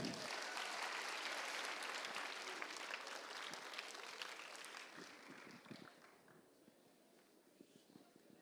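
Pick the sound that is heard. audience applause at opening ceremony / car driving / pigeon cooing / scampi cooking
audience applause at opening ceremony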